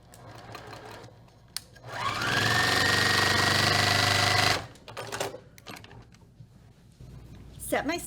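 A sewing machine stitches a quarter-inch quilt seam for about two and a half seconds. The motor whirs steadily, then stops. Quieter handling noises and a voice come before and after.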